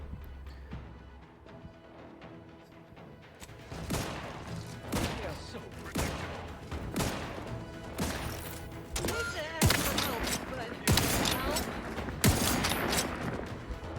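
Rapid bursts of gunfire from The Outer Worlds 2 video game, repeated volleys and single shots stacking over a busy battle mix, loud and close, with game music and effects underneath.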